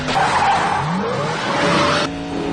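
A car in a Final Destination movie scene tears away with loud, sustained tire screeching over a roaring engine, the squeal sweeping in pitch for about two seconds before cutting to a steadier engine note.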